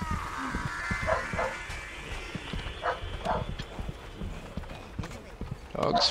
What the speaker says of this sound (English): Dog's freaking out.